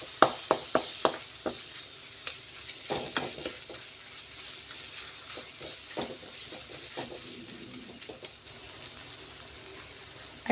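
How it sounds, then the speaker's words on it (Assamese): Ground spices with coriander powder and Kashmiri red chili sizzle in oil in a pan for chana dal, a crackling fry broken by repeated spatula taps and scrapes as they are stirred, close and moderately loud. "এতিয়া মই খুব ভালদৰে লৰাই ল'ম"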